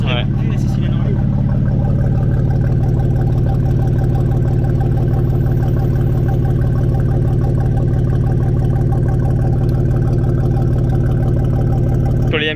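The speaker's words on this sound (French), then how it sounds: "Là je viens de me rappeler du son de la M4 que j'avais filmé. Écoute le ralenti comment il est." A BMW M4 Competition idling nearby, a loud, steady, throaty burble with constant low rumble lasting over ten seconds, with a faint click at the start and end.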